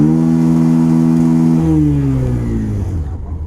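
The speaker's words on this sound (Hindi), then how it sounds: "मैं अभी इंजन को रेव करूँगा" A Bajaj Pulsar 125 split-seat BS6 motorcycle engine held at high revs with a strong harmonic whine, then the revs drop and the engine settles back toward idle; loud and close, with no speech.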